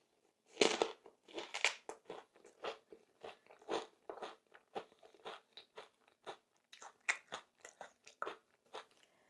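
Close, crisp crunching of Korean green onion dipped in cream cheese, with repeated bites and chewing crackles in an irregular rhythm, quiet and alone without talk.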